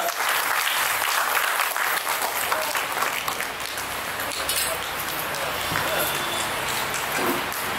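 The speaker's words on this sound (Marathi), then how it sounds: "पुन्हा एकदा आपण डॉक्टर कपिल राजहंस सर आणि मान्यवरांसाठी जोरदार टाळ्यांचा गजर करूया" An audience at a book launch event gives sustained applause, a dense, steady wash of many hands clapping at close range that holds for the whole stretch, with faint voices mixed in.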